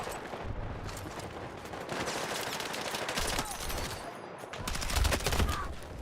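Rapid automatic fire from the SCW-10 gun in Battlefield 6 comes in dense, loud bursts that run almost continuously, with battlefield clutter layered underneath.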